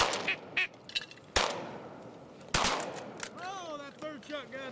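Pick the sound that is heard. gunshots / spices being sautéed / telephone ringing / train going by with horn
gunshots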